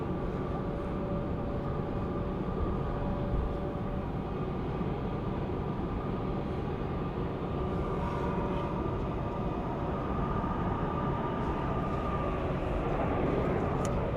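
A jet landing at Heathrow airport, heard from a hotel room as a steady low rumbling roar that holds at the same level throughout, muffled and distant.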